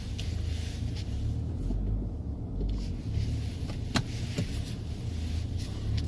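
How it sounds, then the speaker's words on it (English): A 2019 Nissan Altima Platinum on the road, its engine and tyre rumble steady and close from inside the cabin, with a few faint clicks and knocks rising over the low drone. "let's go ahead and take this vehicle for a spin."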